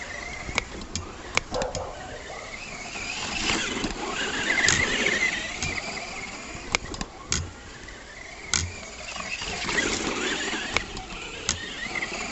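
An ECX Ruckus 4x4 RC monster truck with a brushed motor on 2S runs continuously, its electric motor whine rising and falling as it drives, with sharp clicks and knocks from the chassis throughout.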